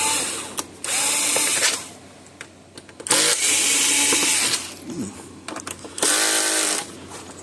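Power drill backing tight screws out of a Cashman CS6000 fence energizer housing during a low-output-voltage repair: three loud, sustained whirring bursts of a second or more, separated by quieter pauses with faint handling noise.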